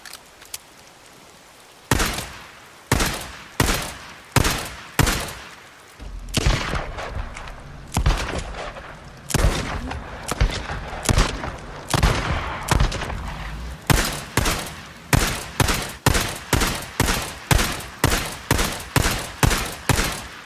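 SAP 9 sidearm from the video game Days Gone fired repeatedly: sharp, loud single shots, sparse at first then in quick steady bursts, each crack with a short decaying tail, no talking.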